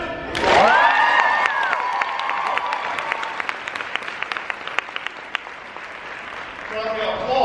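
Loud conference audience applause bursts out and fills the room, with cheers and whistles at the start, then sustained clapping that slowly thins. It fades back toward a speaking voice at the end.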